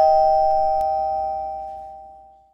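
A doorbell chimes once, loud and close, its sustained tone slowly fading out during a Ding Dong Ditch prank at a house door.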